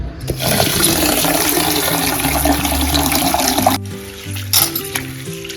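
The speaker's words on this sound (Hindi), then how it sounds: "गर्म पानी से मैं वॉश कर रही हूँ। तो इसको वॉश करके और गर्म पानी में ही थोड़ी देर छोड़ दूँगी।" Hot water rushes and splashes over lentils (dal) being washed in a bowl for khichdi, a loud steady gush that drops to a thinner trickle with a brief surge near the end, and soft tones run underneath.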